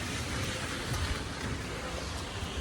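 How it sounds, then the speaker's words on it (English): Steady rain pours down in a dense, even hiss that stays loud and unbroken throughout, with no voices over it. "It's raining now, man."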